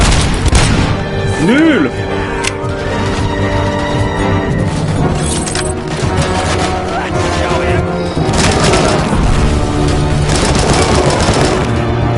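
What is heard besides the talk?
gunfire in the video game RoboCop: Rogue City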